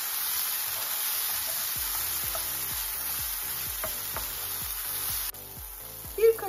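Onions sautéing in a pan for Turkish lentil kofte, a soft steady sizzle with rhythmic scraping of a spoon stirring, ending in a brief louder clatter.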